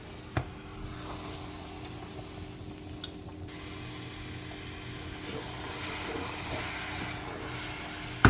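Cassava leaf stew frying in a pot, a steady hiss and sizzle held for several seconds, close and even in level, with a couple of sharp clicks at the start and end.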